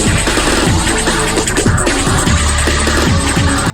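A loud, distorted chromatic voice sample for the Lord.Exe character from the Friday Night Funkin' Sonic.Exe mod runs continuously, with harsh gliding pitched notes in quick succession over dense grit, ending abruptly.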